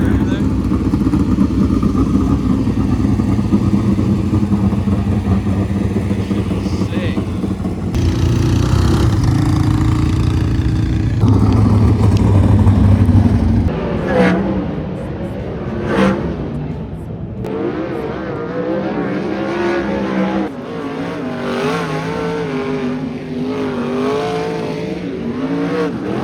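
950-horsepower sprint cars racing around a dirt track, a constant loud engine roar that rises and falls as cars pass, with raspy revving and nearby crowd noise throughout.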